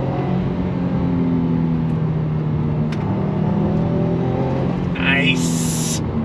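A Subaru WRX engine drones steadily under throttle, a loud, continuous rumble with a brief higher burst near the end.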